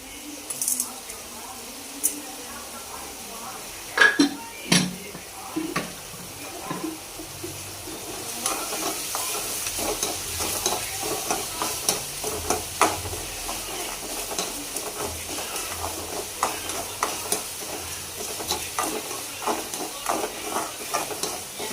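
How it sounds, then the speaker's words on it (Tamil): Tomatoes with salt sauté in a pan for white sauce pasta, giving a soft, steady sizzle under scraping and clinking stir strokes at close range. "இப்போ தக்காளி போட்டு நல்லா வதக்கிக்கோங்க."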